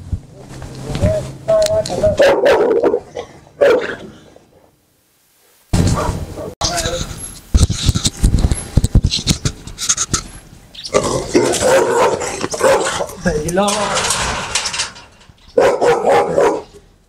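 A dog barks loudly and repeatedly in rough, excited bursts, mixed with yips and with people talking over and between the barks, broken by a brief silent gap.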